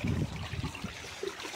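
Irrigation water trickling and gurgling along the ground of a seedless green grape vineyard during the second watering, a soft close burbling flow with small splashes, no talk.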